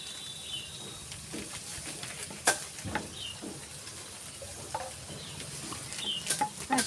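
White cooking oil poured into a hot karai for pea rice gives a soft, steady sizzle with scattered light clinks and scrapes of a utensil against the pan, close up and with no talking.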